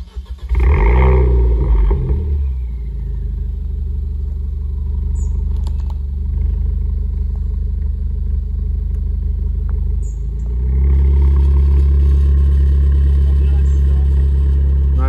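A car engine cranks and fires up, then settles into a loud, steady low rumble close by, with a revving swell near the end.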